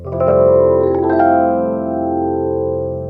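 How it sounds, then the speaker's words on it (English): Sustained keyboard chords with a slow sweeping, swirling phaser tone, bright and loud, held and gradually fading with no voices. "Otherwise, I go with the phaser, which sounds like this."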